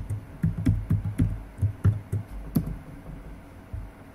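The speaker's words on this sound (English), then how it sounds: "type sudo password." Keys tapped in short uneven bursts on a computer keyboard while entering a sudo password in a Linux terminal, close and fairly quiet, with no talking.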